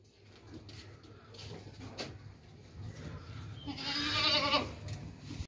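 A goat of a good breed, with a fringe under its neck, gives one drawn-out bleat near the end, with low rustling and handling noise before it.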